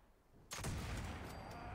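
A single black powder rifle shot in a video game, one sharp loud report that booms and then rolls on into a long, fading echo after a short quiet start.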